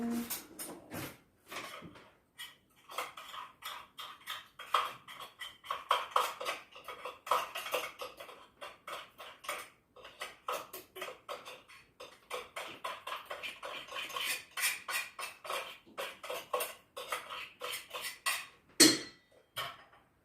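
A spoon stirs almond flour, other flours, salt, baking soda and psyllium in a bowl, giving a run of soft rhythmic scraping taps close by, with a few louder clinks and a brief voice at the start.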